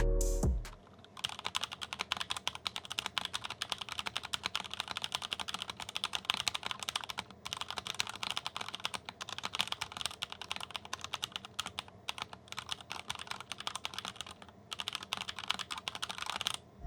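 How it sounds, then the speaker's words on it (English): Typing on a Rakk Diwa V2 keyboard with its stock switches, unmodified: a dense, continuous patter of close keystrokes, fast and steady with brief pauses, and no talk. "let's do a quick sound test of the Rakk Diwa V2 out of the box"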